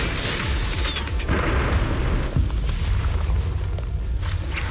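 Homing barrage missiles detonating in a video game battle, a dense rumbling series of booms and blasts layered over one another, loud and sustained with heavy low-end impacts and no talk.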